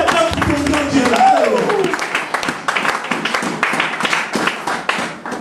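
A church congregation claps and acclaims God, with loud voices and singing at first, then steady rhythmic hand claps continuing through the rest of the clip.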